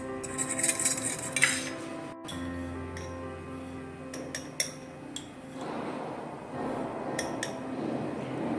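An egg is beaten with a pinch of salt in a bowl for crispy chicken, giving steady clinking and tapping of a utensil against the dish, close and fairly loud, with a brief pause and no talk.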